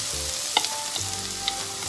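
Shrimp and onions frying together in a pan, a steady close sizzle with a few light clinks and stirring sounds, no talking.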